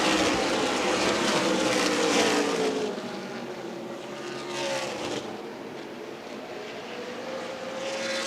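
Race cars at Winchester Speedway in an ARCA/CRA Super Series race stream through turns 3 and 4, a loud continuous engine roar with shifting pitch as the pack passes, no talk.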